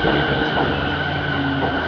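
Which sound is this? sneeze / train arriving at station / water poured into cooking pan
train arriving at station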